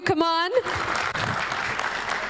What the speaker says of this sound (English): Can we have a big round of applause for all of you?